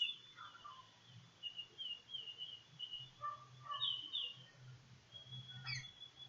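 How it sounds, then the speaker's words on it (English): Several unusual bird calls rise in a loose chorus, with thin high chirps and whistles scattered through the clip over a low steady rumble, fairly faint and distant with no talking. "It's an unusual bird call, isn't it?"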